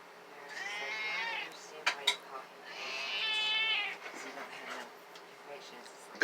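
A male cat meows in drawn-out, harmonic calls, two long ones with brief sharp sounds between, close and fairly loud, as if complaining at someone indoors.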